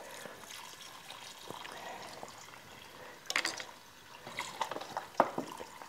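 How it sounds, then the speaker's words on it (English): Costco organic vegetable broth pouring from a carton, a faint trickling stream with soft gurgles and a few louder glugs and splashes near the end. "Then I'm going to put in 2 quarts of vegetable broth."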